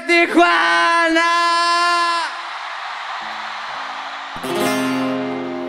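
A loud, drawn-out shouted yell, a grito, rings out at a live concert in Tijuana. Strained, wavering pitch is followed by quieter background and then more shouting.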